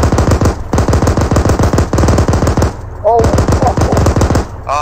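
ArmA 3 gunfire comes as loud, close bursts of rapid automatic shots in several long strings with short gaps between them, and a faint chirp sounds during one pause.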